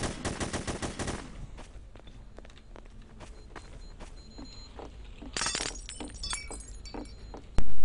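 Gunfire in The Hidden: Source, a rapid burst of close, loud shots at the start, followed by scattered single cracks, clatter and footsteps over a low game background, with a sharp blast at the very end.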